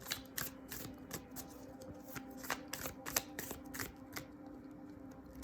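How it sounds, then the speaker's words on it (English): Tarot cards are shuffled in quick, crisp riffling bursts, repeated flutters and snaps close to the microphone, with no talking. "if you would like to fast forward through me shuffling"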